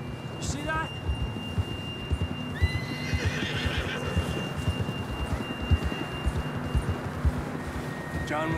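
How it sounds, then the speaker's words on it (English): A horse whinnies near the start in Red Dead Redemption 2, then hooves clip-clop steadily through the rest, with another short neigh at the end over a low ambient bed. "John was riding that horse when we left Blackwater"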